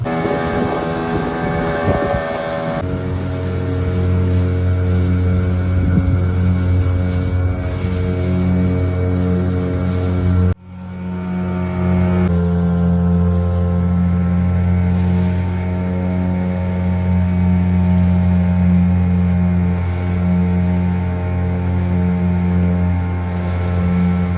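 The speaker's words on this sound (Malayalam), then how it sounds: "എഞ്ചിന് സ്റ്റാർട്ടായിട്ടുണ്ട്." A fishing boat engine drones steadily and loudly up close at sea, with a deep rumbling hum and a brief dip midway before it resumes running.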